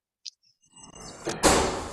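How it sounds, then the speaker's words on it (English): A door swings shut in a room with a brief click, then a firm thud that rings out for a moment, close and clear. "Close the door."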